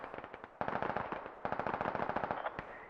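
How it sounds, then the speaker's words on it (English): Sustained machine gun fire in the video game Squad, rapid bursts of rattling shots at a steady rhythm with brief pauses between strings, moderately distant and with no talk over it. "lot of MG fire going out here."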